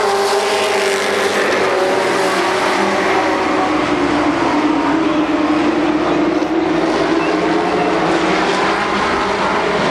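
Race cars lapping Columbus Motor Speedway during the 1996 Race of Champions, producing a loud, continuous engine roar that sweeps by without a break, with no clear talk above it.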